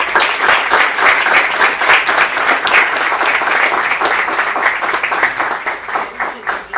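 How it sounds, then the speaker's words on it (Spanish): Loud, sustained applause from an audience at a poetry anthology presentation in a library setting, many hands clapping in a dense, even wash that swells slightly and carries on for several seconds. "a quien pido un fuerte aplauso por su presencia"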